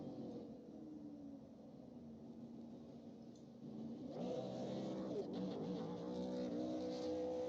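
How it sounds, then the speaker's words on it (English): Race car burnout in the iRacing sim after a race at Lanier National Speedway, a steady engine drone that swells louder and rougher midway with revving and tyre noise, alone without talk. "Doing the obligatory burnouts."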